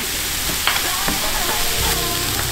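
A tablespoon of butter sizzles with mushrooms in a hot pan, a dense, even crackling hiss throughout with faint stirring clicks.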